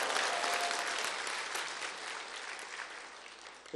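Sustained applause from a church congregation at a Sunday evening evangelism testimony meeting. Dense, loud clapping stays steady, then tapers slightly toward the end.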